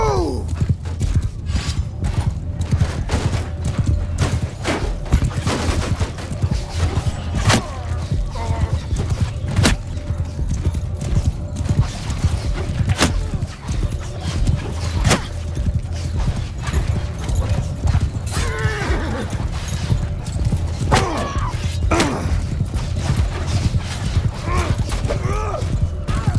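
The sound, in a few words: cavalry horses moving in video game Bannerlord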